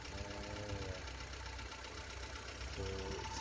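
Vauxhall Corsa Lite engine idling after a radiator flush, a steady low mechanical hum with faint harmonic tones, close and continuous at a quiet level, no voices.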